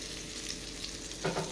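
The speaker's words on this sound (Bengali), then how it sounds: "তখন আঁচটাকে বাড়িয়ে আমি ভাজতে শুরু করি বেশ কড়া কড়া করে ভেজে নিই" Food frying crisply in a pan over raised heat, a steady close sizzle with a brief stirring clatter at the end.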